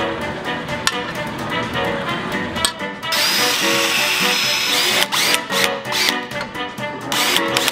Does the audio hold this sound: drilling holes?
yes